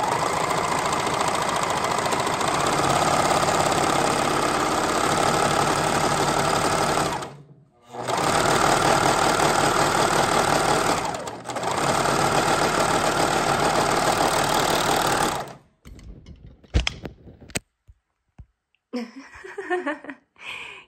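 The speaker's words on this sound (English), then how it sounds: "now I'm serging the straight edge of my sleeve" Serger overlocking the straight edge of a fabric sleeve, a loud rapid close mechanical whirr in long runs with two brief pauses, then stopping, followed by scattered handling clicks and faint sounds.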